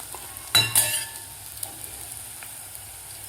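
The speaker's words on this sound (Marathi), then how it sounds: "कारला असं मस्त आपलं तेलामध्ये फ्राय झालेलं आहे." Bitter gourd fried in oil is stirred in the pan, with two sharp metallic clanks of a utensil early on. A faint sizzle runs underneath, followed by a few light taps. Quiet, close, with no talking.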